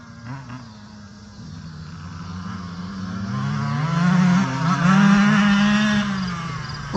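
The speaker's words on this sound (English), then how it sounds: "Angelo landed that one flat." Two-stroke dirt bikes, a CR125 and an 85, race past with a rising, revving drone that swells louder and nearer over several seconds, the engine pitch climbing and bending as they power through.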